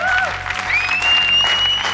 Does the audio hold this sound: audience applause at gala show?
yes